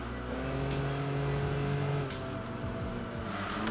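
A race car in the video game Enthusia, engine droning steadily at speed with shifting pitch as gears change, loud and continuous throughout.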